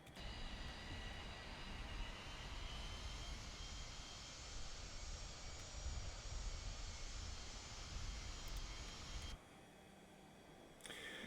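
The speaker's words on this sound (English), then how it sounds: "Let's roll onto the runway and take off." A DC-9 jet airliner in a flight simulator rolls onto the runway with a steady, loud jet engine roar that holds evenly, then drops abruptly to a lower hum near the end; no one speaks.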